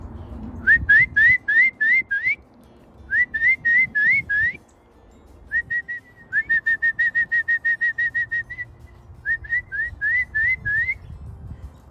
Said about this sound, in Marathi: आता शिट्टी वाजवली की लागलीच पक्षी यायला लागतील